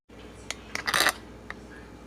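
Metal utensil clinks and taps against a bowl while meatball mixture with minced onion is mixed, a few scattered light clinks with a brief cluster in the middle, quiet and without talk.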